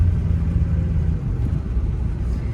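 A 2003 Ford F350 Powerstroke diesel dually pickup, completely stock, is driven along the road, with a low, steady engine rumble and road noise heard from inside the cab and no talking.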